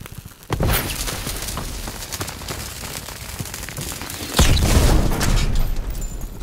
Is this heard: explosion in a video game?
yes